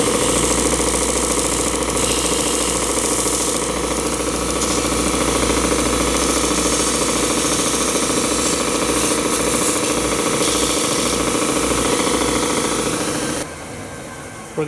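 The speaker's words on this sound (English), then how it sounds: "it's easy now to come to the sander and sand it down to your line" A power sander grinds against a wooden model float plane, a loud, steady droning whir that runs almost unbroken for the whole stretch and cuts out near the end, close by with no voices.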